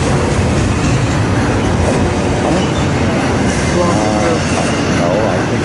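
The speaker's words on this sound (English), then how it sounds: "Why are they sending a stack train into Reading Yard?" A Norfolk Southern double-stack freight train rolls past close by into Reading Yard, a loud continuous rumble of wheels and cars with faint squeals, and voices underneath.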